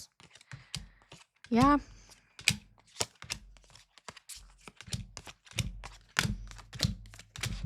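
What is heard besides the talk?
shuffling tarot cards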